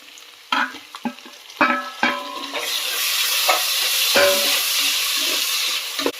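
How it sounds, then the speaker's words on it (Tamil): Several sharp clanks of a spatula against a pan, then a loud, steady sizzle builds as chopped tomatoes sauté in hot oil for chicken biryani. "தக்காளி போட்டு நல்லா வதக்கி வைக்கணும்"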